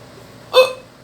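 A single sharp hiccup from someone who is drunk, loud and close in an otherwise quiet room.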